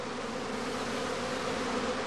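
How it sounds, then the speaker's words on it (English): A prime swarm of honeybees drones steadily at a hive entrance, a dense, continuous buzz from many wings that stays loud and even throughout, with no voices. "The prime swarm flies off."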